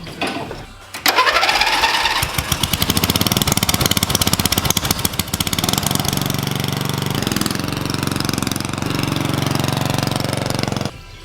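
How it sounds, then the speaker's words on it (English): A racing lawnmower engine with a newly fitted exhaust cranks, catches after about a second and revs into a loud, rapid, pulsing run close by, with a rough chattering idle and no talking. "Exhaust is ran. Let's fire her up, see how she sounds."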